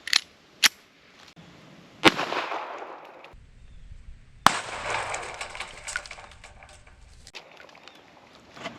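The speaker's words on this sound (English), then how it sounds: "We're going to start off by shooting the pond over here because it is frozen." Ruger LCP pistol fired at a frozen pond outdoors: a handful of sharp, separate cracks spaced a second or two apart, some followed by brief rumbling echo, with no talk.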